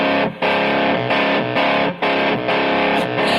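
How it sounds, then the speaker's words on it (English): Electric piano played through a bass distortion pedal, heavily overdriven chords with a thick fuzzy tone, sustained and loud with brief dips between stabs, no voices. "Using Brett's cool bass distortion pedal with my electric piano on that song."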